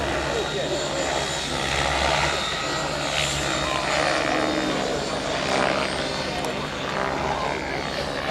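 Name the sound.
E700 model aircraft flying with Scorpion electric motor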